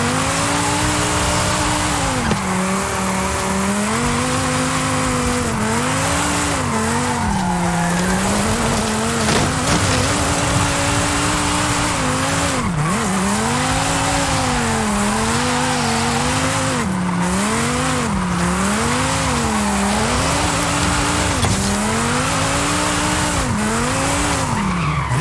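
Drift car in Forza Horizon 5 sliding with loud, continuous tire squeal that rises and falls in wavering pitch over a revving engine, sustained throughout.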